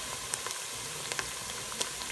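Onions with a tablespoon of ginger-garlic paste sautéing in a pan for Arabic-style chicken machboos, a soft steady sizzle with a few faint crackles and pops, fairly quiet and with no talk.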